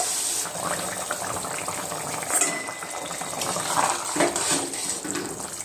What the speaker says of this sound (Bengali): তো আমি এখানে জল দিয়ে দেবো গ্রেভির জন্য।